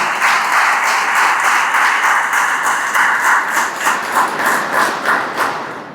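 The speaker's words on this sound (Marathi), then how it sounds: "कोल्हापूरसाठी जोरदार टाळ्या वाजल्या पाहिजे" Loud, dense applause from a large crowd, steady clapping that swells in waves and fades slightly at the end, with no voices on top.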